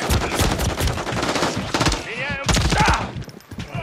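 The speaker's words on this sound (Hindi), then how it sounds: "इस मशीन गन को निपटा तो." Loud, close machine-gun fire from Call of Duty: Modern Warfare III, played on PS5, rattles in rapid bursts. Short gaps of other game effects break it up, and a player's voice is mixed in.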